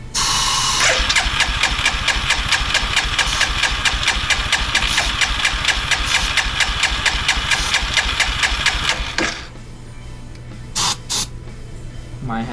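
A Hisun 400 ATV 4x4 engine runs loud and close with a steady rapid putter for about nine seconds, then drops to a quieter idle with a few brief revs, and no talking.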